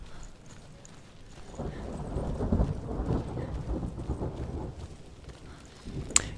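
Thunder rumbles low and long in the video game Hellblade: Senua's Sacrifice, a swelling roll that builds and fades over several seconds with no rain.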